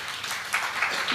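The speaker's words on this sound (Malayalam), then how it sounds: "ഇത്രയൊന്നും കയ്യടി കൊടുത്താൽ പോരാ, സത്യന് ഒരു നിറഞ്ഞ കയ്യടി അദ്ദേഹത്തിന് നൽകണം" Audience applause for Sathyan, the leader of the Swaralaya orchestra, at a stage programme: a steady wash of clapping from a crowd, moderately loud, with swells near the middle and end and no talk over it.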